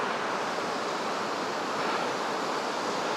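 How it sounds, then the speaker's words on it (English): Flowing water on a countryside estate walk in Northamptonshire gives a steady, even rush throughout, moderately loud and unbroken, with no talk over it. "you can probably hear the water from here"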